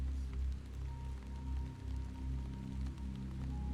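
Steady rain pours in the Hollowbody survival-horror game, a dense, continuous patter over a low rumbling drone, loud and unbroken with no talking.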